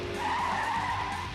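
Tires skid on a 2009 Dodge Challenger driven through a course of archways, a loud sustained squeal over engine rumble lasting the whole moment, with no talk.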